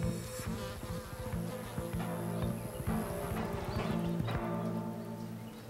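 Steady insect buzzing, flies and bees droning continuously at close range, with faint rhythmic clopping in the background.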